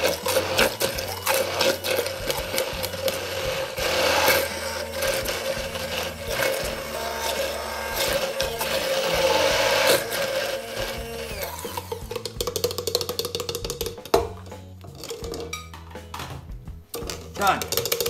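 A blender purees roasted piquillo peppers for a pepper béchamel base, its motor whirring loudly in pulsing, uneven bursts with clattering from the kitchen.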